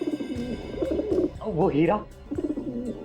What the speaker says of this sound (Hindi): घर को देख के ऐसे लग रहा है जैसे ये कबूतर तुम्हें पाल रहे हैं, तुम कबूतरों को नहीं।